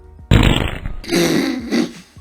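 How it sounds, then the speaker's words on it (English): Cartoon fart sound effect from an old homemade animation: a loud, sputtering blast followed by a second drawn-out, wavering fart, both close and clear with no talking. "let's try fart on head."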